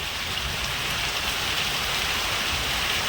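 Heavy monsoon rain pours down in a steady, dense hiss, close and loud, with no pauses and no voices.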